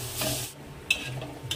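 Green chili thecha cooking on an iron tawa over a low gas flame, with a soft close sizzle, stirring scrapes and a couple of sharp metallic clinks of the utensil.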